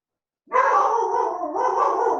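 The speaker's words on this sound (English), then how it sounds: "Barking dog." A single dog gives a sustained, wavering howl that starts abruptly and carries on loud and close, with no other sounds around it.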